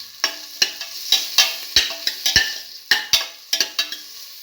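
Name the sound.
mixing spices into frying potatoes and beans in a pan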